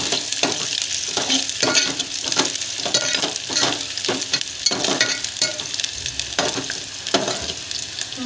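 Garlic frying in a pan on a home stove, a continuous crackling sizzle broken by repeated scraping stirs of a spoon, close and steady throughout.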